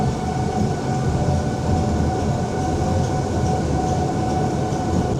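A monorail ride at the Parc Bagatelle amusement park runs with a steady, loud rolling rumble and a constant mechanical drone, heard from on board and without any talking.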